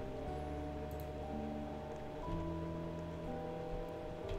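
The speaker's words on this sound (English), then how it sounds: "Oh no, it's raining." Rain falls in the Roblox game TreeLands, a steady soft hiss of rainfall under sustained game music tones, continuous and even throughout with no talk.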